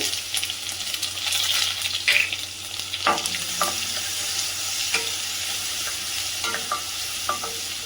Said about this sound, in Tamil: எண்ணெய் சூடாயிடுச்சு ஃப்ரெண்ட்ஸ். இப்போ கடுகு போடலாம். அப்புறம் சீரகம், அப்புறம் பார்த்தீங்கன்னா பூண்டு,